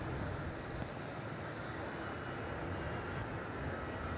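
An old-style Jetstar Airbus A320 departs Melbourne Airport for the Gold Coast, its engines a steady broadband roar heard at a distance, fairly faint and unbroken.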